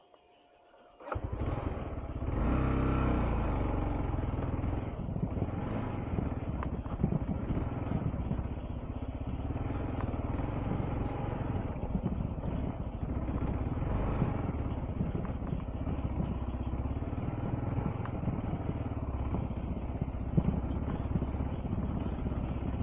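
A motorcycle churns steadily over a rocky trail, the engine droning loud and close from start to finish with the clutch slipped and revs wavering as the bike labours across the rough, broken ground.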